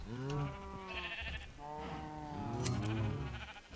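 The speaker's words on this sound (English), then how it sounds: "he just comes down, shears each one of the sheep as he goes past on the left" Sheep in a video game bleat while being sheared. Several loud, close bleats overlap one another across the whole stretch, with no talking.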